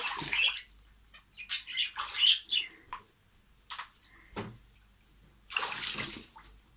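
Water splashes in bursts as a child swims toy animals around a small water pool, with near, irregular sloshing and trickling and short quiet gaps between splashes, with no talking.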